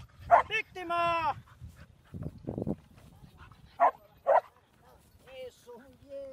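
A black Labrador search dog from a civil protection canine unit barks in a few sharp, close bursts, interleaved with a person speaking encouragement nearby.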